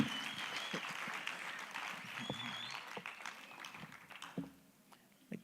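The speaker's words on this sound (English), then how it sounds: "Let's give him another round of applause" An audience at a vocational education conference claps in a steady, moderately distant round that thins out and fades near the end.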